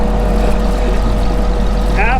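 A 1942 Ford GPW WWII jeep driving at about 25 mph, its engine giving a loud continuous drone and rumble with strong wind and road noise close to the microphone.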